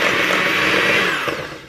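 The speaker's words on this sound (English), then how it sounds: "I'm just gonna mix this up with my hand mixer" A hand mixer whirs steadily and loudly through cream cheese, egg, sugar and vanilla in a home kitchen, a constant high motor whine that eases slightly near the end.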